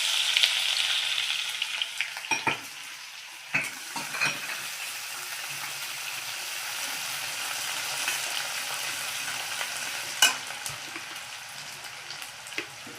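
Ginger, garlic and green chili paste fries with crackling cumin seeds in a pan, a continuous close sizzle with several clinks and scrapes of a spoon and a brief voice in the background.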